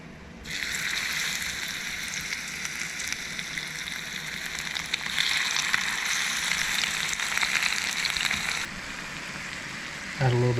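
Seasoned smallmouth bass fillets hit hot oil and erupt into a loud, steady frying sizzle, a bright crackling hiss that holds for several seconds before easing slightly near the end.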